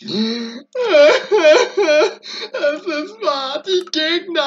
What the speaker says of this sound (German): Ihr hört mich hier weinen wie ein kleines Kind